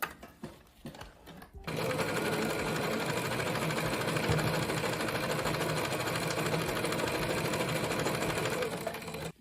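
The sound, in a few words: sewing machine stitching bag lining fabric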